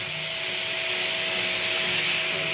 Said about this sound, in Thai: โป๊เสร็จแล้วก็ ขัดให้มันเข้ารูปครับ